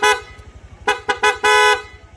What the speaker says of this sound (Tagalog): Then pag switch, magpapalit sa PIA horn.